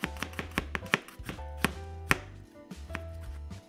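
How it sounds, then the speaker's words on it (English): A knife slices ginger and garlic on a cutting board in quick, sharp, rhythmic chops, close and distinct, with a brief pause partway through. "I'm gonna start by slicing the ginger"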